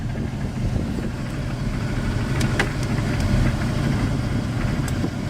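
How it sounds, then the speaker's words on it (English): A dually pickup truck's engine runs steadily outdoors with a low, even rumble and some wind noise, with no clear rise in revs. "Let's rev the motor and see what happens."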